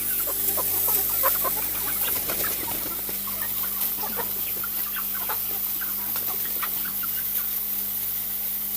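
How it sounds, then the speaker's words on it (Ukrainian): Chicks cluck softly and repeatedly close by as they are let out to graze, scattered short calls over a steady low hum, with no talking. "Випускаємо пастися курчатка."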